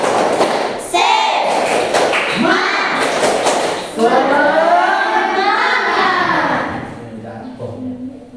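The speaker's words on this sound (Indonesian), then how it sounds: "kita tepuk semangat dulu" A classroom of children performs the rhythmic 'tepuk semangat' spirit clap, loud patterned thumping claps mixed with the kids chanting together, fading toward the end.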